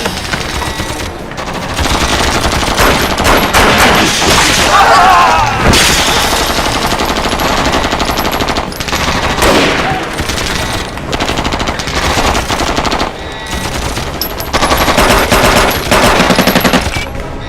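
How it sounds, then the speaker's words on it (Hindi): Loud, close machine gun fire rattles in sustained, dense bursts through the whole stretch, with only brief dips in intensity and no voices. "इतनी गोलियां चलाई फिर भी उस पर असर नहीं हो रहा।"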